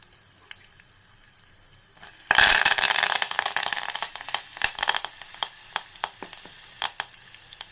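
Mustard seeds, asafoetida and curry leaves hit hot oil in a pan after a quiet start, bursting into loud close sizzling that settles into sharp popping and spitting crackles.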